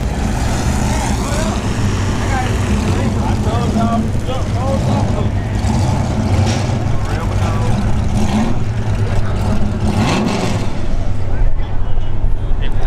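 A Tesla Model S Plaid and a Dodge Durango SRT run a drag race at a dragstrip during test-and-tune, heard as a loud, continuous vehicle roar and rumble. People talk over it throughout.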